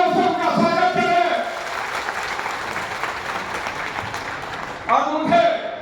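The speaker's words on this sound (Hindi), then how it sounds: "एक बार हम सब मिल करके अपनी तालियों से उनका स्वागत करें" A crowd at a public event applauds to welcome a state minister, steady clapping through the middle, with someone talking loudly over the start and again as it fades.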